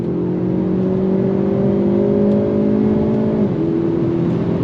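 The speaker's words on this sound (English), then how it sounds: "The sound from the exhaust, the pops, the bangs" A 2024 Hyundai Elantra N runs under throttle with a steady droning exhaust note, its pitch holding level and then dropping as it shifts. The sound is loud and continuous from inside the car, with no clear distinct pops.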